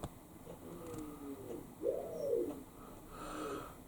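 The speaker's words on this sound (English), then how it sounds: "There's a male pigeon out here, and it chases all the female pigeons constantly. It's constantly cooing at them." A male pigeon coos outdoors, soft low rolling coos repeating a few times at a distance over faint background hiss, with no talking.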